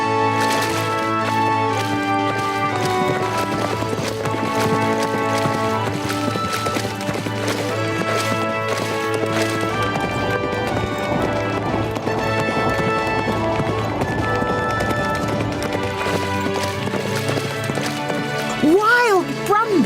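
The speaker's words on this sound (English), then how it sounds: "It was the sound of a stampede of horses." A stampede of galloping horses rendered as a sound effect, rhythmic hoofbeats pounding beneath steady background music, with a whinny near the end.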